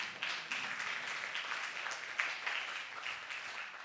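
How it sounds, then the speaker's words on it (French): Audience at a round-table forum applauds panelists taking the stage, a moderately loud wash of clapping with a few sharper individual claps standing out. "Oui, vous pouvez applaudir, allez-y."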